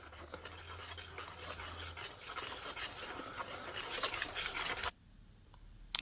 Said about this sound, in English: I just like to whisk it for a while, just to make sure everything is all nice and blended up